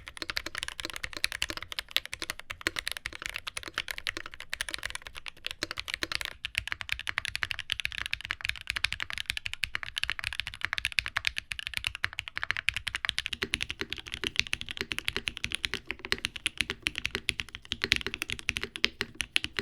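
Rapid, continuous clacking of keys on a mechanical keyboard, close and steady, with no talking.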